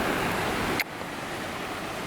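Creek water flowing outdoors near Moab, a steady broadband rush heard up close with a brief dip partway through, and no voices.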